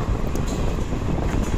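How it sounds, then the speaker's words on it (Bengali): The Paharia Express night train rumbles along the tracks, a dense, steady roar of wheels and carriage noise, loud and continuous, with no voices. "হাওড়া স্টেশন থেকে রাত 10টার পাহাড়িয়া এক্সপ্রেসে করে যাত্রা শুরু করল।"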